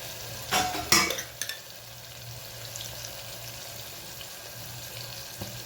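Turmeric, red chili and coriander-cumin powder get stirred into a cooking pan, with a couple of sharp metal scrapes and clinks early on, then a soft steady sizzle and occasional light stirring sounds.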